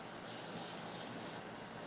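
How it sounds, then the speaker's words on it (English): Nonstick cooking spray aimed at a mini grill, a single close hiss lasting about a second before cutting off. "Let me spray some nonstick real quick."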